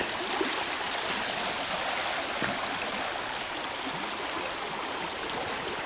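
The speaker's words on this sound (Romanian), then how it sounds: "Aici e râu" River water rushes steadily and close by in a mountain forest near Apșa de Mijloc while out mushroom picking, a dense continuous flowing hiss with no voices over it.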